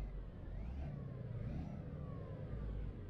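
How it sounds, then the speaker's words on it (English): Volvo FH16 540 truck engine in Euro Truck Simulator 2 heard from the cab, a steady low rumble that swells slightly as it revs, continuous and fairly quiet, with no talking. "we'll do the inside rev"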